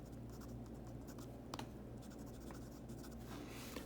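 A Rotring Esprit fountain pen with a fine steel nib writes on paper, a soft continuous scratching with a few brief ticks, close-up and quiet over a steady low hum.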